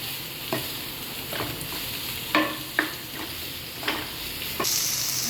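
Broccoli being stir-fried in a hot pan for a broccoli and peas curry, with a steady sizzle and repeated scraping stirs at irregular intervals, close and clear with no talking.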